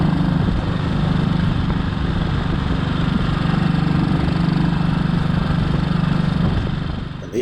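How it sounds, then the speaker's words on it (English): An old British single-cylinder motorcycle thumps steadily along country roads, its loud continuous engine drone close and unbroken, with rushing wind noise layered over it and no voices. "riding an old British single, thumping away along country roads"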